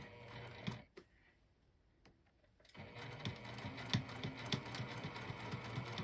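A sewing machine stitches around the drawn outline of a sling bag panel, running in steady bursts with a pause around one to three seconds before the motor picks up again, close and clear with no talking.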